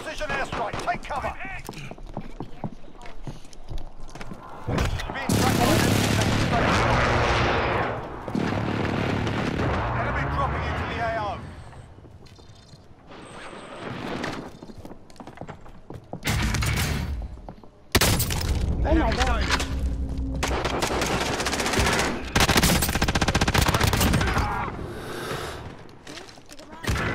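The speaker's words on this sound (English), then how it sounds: "Enemy precision airstrike, take cover!" A precision airstrike and gunfire in Call of Duty Modern Warfare: heavy booming impacts and loud crackling bursts that swell and cut out repeatedly, mixed with game effects and talking voices.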